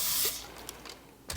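A burst of canola oil cooking spray hisses onto a tray for a moment, followed by a few shorter spritzes and a light clatter near the end.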